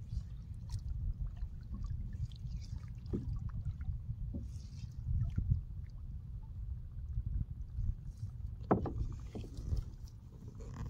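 A motorized boat on the Brahmaputra river churns along with a steady low engine drone, joined by occasional light splashes of water.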